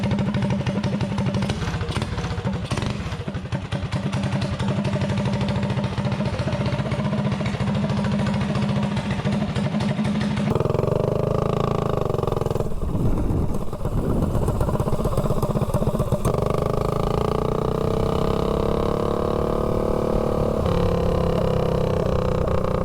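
A mini bike engine fitted with a 26mm PWK carburetor runs loud and close for the whole stretch, idling with a rough clatter before revving and shifting pitch as it pulls through the gears.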